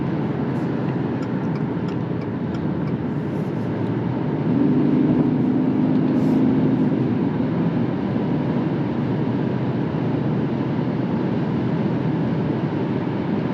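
Steady, loud low rumble and hum of road and wind noise inside a 2025 Subaru Forester Limited cruising on the highway, unbroken and even throughout with no talking.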